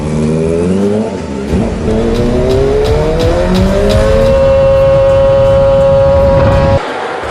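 A Kawasaki ZX25R four-cylinder racing motorcycle at an ARRC race screams loudly close by, its revs climbing through several gears to a sustained high wail before cutting off sharply near the end.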